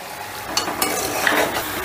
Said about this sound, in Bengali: এই মটন তোমরা যত ভালো কষবে, ধৈর্য ধরে কষবে